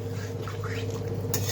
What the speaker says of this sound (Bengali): আবার ভালো মতো নেড়ে চেড়ে নিই।